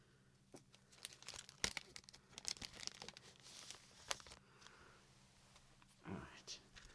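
A large adhesive plaster for sealing a wound is handled close up, giving soft crinkling, peeling and tearing rustles with scattered sharp clicks, intimate and quiet, interspersed with faint whispering.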